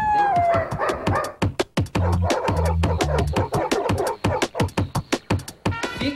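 A dog in a TV studio barks and yips in a rapid, uneven series of sharp close barks, with a brief howling whine near the start, loud and mostly alone over faint studio sound.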